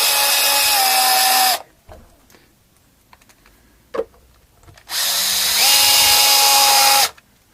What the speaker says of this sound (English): put it on the lowest torque when I put this back on, just so I can refix the screws